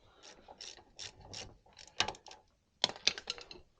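Ratchet wrench undoing the two brake caliper bolts on a 2005-2013 Range Rover Sport L320 3.6 TDV8 at the front wheel, a run of close, rapid mechanical clicks in several short bursts, one sharp burst after a brief pause.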